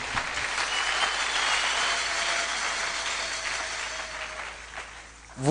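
A church congregation applauding during a worship service, a dense steady wash of many hands clapping at moderate distance that thins and fades toward the end, with no talk over it.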